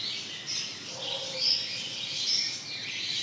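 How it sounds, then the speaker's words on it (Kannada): Several birds chirp and call at Yediyuru Lake in Bengaluru, with bright, repeated tweets rising and falling over about three seconds against a quiet background. "ಇಲ್ಲಿ ಪಕ್ಷಿಗಳಿದ್ದಾವೆ."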